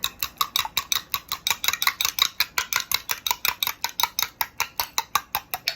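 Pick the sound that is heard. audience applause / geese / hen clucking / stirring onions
stirring onions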